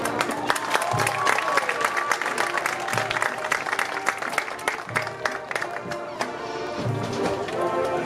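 A crowd at a Springfield vs Station Camp homecoming game applauds and cheers for the homecoming representatives, dense steady clapping with shouts mixed in, lively and continuous.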